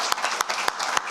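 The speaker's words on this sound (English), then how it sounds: "a round of applause for the last speakers" A small audience at a conference gives a brief round of applause for the last speakers. Sparse, distinct claps land in an uneven rhythm, fairly quiet, over about a second.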